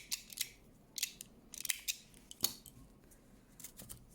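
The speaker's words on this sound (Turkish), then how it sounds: "Ve artık ipimi burada kesiyorum." Scissors snipping raffia rope, several crisp, close cuts in an irregular rhythm with faint handling noise between them.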